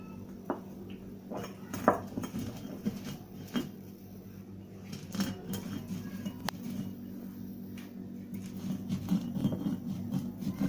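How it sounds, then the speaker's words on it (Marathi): Garam masala spices ground by hand on a traditional stone slab, a steady gritty scraping and rubbing with occasional knocks of stone on stone, continuous and close. "आपण आता पाट्यावर वाटून घेऊया"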